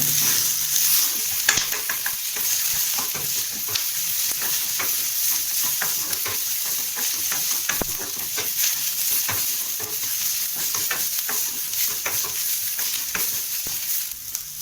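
Tomatoes sauté for tomato chutney in a pan over low heat, giving a steady close sizzle broken by frequent scraping stirs from a spoon, with no talking throughout.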